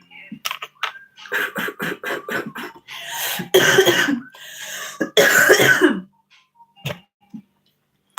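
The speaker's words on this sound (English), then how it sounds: "excuse me for any and all coughs" Repeated coughs and throat clearing from a person close to the mic, arriving in bursts with short pauses, two longer harsh coughing fits in the middle, then quiet.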